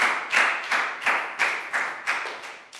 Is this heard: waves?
no